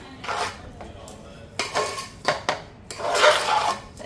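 A spoon scrapes and clinks around a metal vessel while boondi ladoo mixture is stirred, giving several short bursts of close metallic scraping separated by brief pauses, with no talking.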